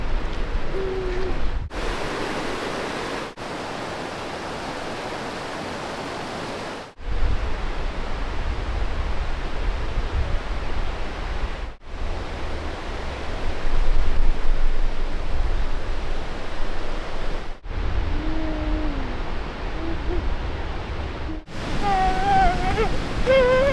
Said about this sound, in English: The waterfall right there.